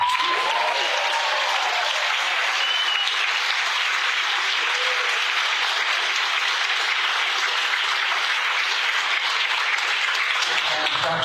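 A large audience applauds students at a medical school white coat ceremony, sustained and even for about eleven seconds and fading slightly at the very end.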